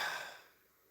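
A person imitates light snoring by inhaling through an open mouth, giving one soft, breathy, airy intake that fades out over under a second.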